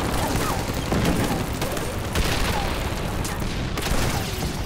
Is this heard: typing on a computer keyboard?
no